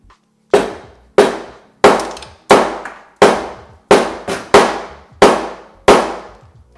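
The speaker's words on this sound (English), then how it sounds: "Promised you guys I was going to hit stuff with a hammer." Nine sharp hammer blows strike something hard at a steady pace, each a loud crack with a short ringing decay.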